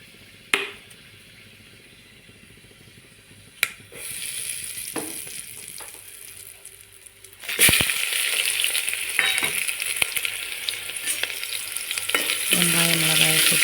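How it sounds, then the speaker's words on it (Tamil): Chana dal, urad dal and asafoetida hitting hot oil in a pan, a few sharp knocks, then a loud, close sizzle that swells and continues with stirring scrapes. "கடலைப்பருப்பு, உளுந்தம்பருப்பு, பெருங்காயத்தூள் சேர்த்திக்கோங்க."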